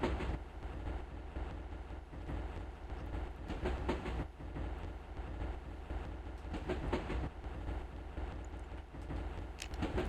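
A train rolls along rails in the video game Barkley, Shut Up and Jam: Gaiden, a steady low rumble with faint rhythmic clatter running throughout, fairly quiet and free of talk.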